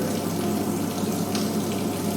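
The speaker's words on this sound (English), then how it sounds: "Here is the vortex, free vortex." Water swirls and rushes steadily through a free vortex apparatus in a fluid flow experiment, a loud continuous wash with a pump-like hum beneath and no voices.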